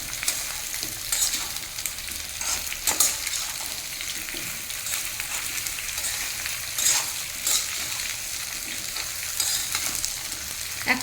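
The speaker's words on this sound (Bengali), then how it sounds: "লাউ দিয়ে একটু নাড়িয়ে মিনিট 2 ভেজে নেব।" Chopped bottle gourd fries and is stirred in a pan with potatoes, giving a steady crackling sizzle with irregular scraping bursts from the stirring, close and moderately loud.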